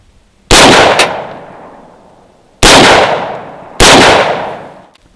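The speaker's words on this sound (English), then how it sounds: "we're going to put 3 rounds on the top target and see where we're at" A rifle loaded with 55 grain full metal jacket ammunition fires three loud, sharp shots at a 25-yard target outdoors, the first standing alone and the last two coming closer together, each followed by a decaying echo.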